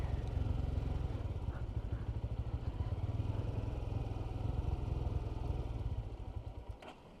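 A motorcycle engine putters steadily at low revs, close by, while riding slowly down a steep slope on a hill road near Keokradong, then fades toward the end as the engine cuts out.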